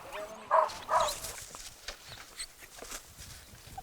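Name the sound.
hungry dogs on an island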